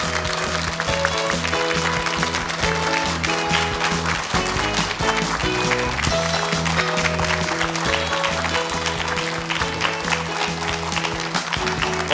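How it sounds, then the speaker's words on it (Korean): A studio audience on a Korean morning talk show claps to welcome a rheumatology specialist, a loud continuous wash of clapping over a steady musical bed, with a short dip partway through. "김성윤 박사님 큰 박수 맞아주시기 바랍니다."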